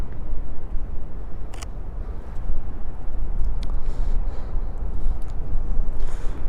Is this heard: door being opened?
no